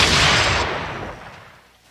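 A six-shooter revolver firing in a film scene: a loud, full gunshot blast opens the clip and its rumbling echo trails off slowly, with no talking.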